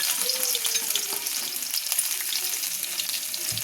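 Ginger pieces spit and sizzle in hot oil in a pan, a constant close crackling hiss with small pops and stirring scrapes, no talking.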